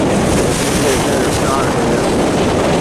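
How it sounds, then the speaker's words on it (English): Rough surf crashes steadily into a bay during a blustery fishing trip in Canada, with strong wind buffeting the microphone and blending with the roar of the waves. "the waves are really bashing in."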